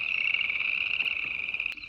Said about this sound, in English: I love the sound of the frogs.